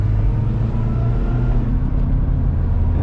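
Worn wheel bearing on a rebuilt Nissan Altima while driving, heard from inside: a steady, loud, low droning rumble that holds constant for the whole stretch, with no talking.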